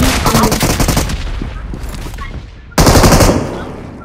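Rapid bursts of video-game gunfire, loud and close, form a dense machine-gun rattle that eases off, then a fresh heavy volley cuts in near the end. Faint talk sits underneath.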